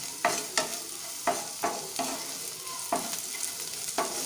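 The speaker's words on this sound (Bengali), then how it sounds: "আমার এটা ভাজা ভাজা কিন্তু হয়ে এসছে" Bottle gourd peel is stir-fried in a pan, a soft steady sizzle broken by about eight sharp spatula scrapes and stirs spread unevenly across the clip, with no voices.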